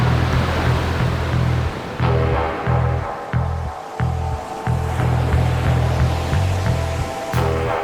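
Rough Atlantic surf pounding the rocky shore of Eleuthera Island, loud repeated wave crashes and rushing wash in a roughly regular rhythm, with wind, no talking.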